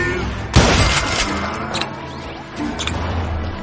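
Gunshots from the Old West shooter Call of Juarez Gunslinger: a sharp, loud blast near the start followed by a few fainter shots and echoing cracks amid ambient game noise.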